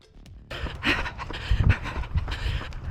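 Heavy, labored panting breaths, fast and close, with rustling movement and footfall noise mixed in.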